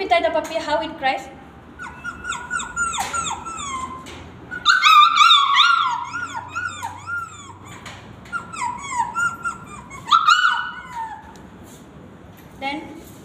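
A voice mimics a puppy crying, with a string of high, wavering whimpers and yelps that rise and fall, some louder bursts in the middle.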